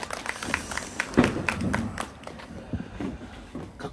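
Applause for a singer at a candlelight rally in Seongju, Korea: scattered, fairly light clapping from a modest crowd, uneven and thinning out over a few seconds, heard from mid-distance.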